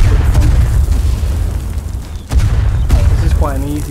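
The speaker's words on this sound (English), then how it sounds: "They mortared the bunker at the front." Mortar shells burst on a bunker in the WW1 game Verdun, a heavy rumbling boom with sharp cracks at the start and near the middle, loud and close, with a voice speaking over it.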